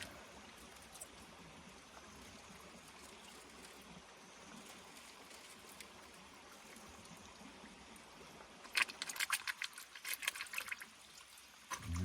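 Water rinsing a gold-prospecting mat, a soft steady wash of flowing water, then a louder splashing, trickling burst near the end.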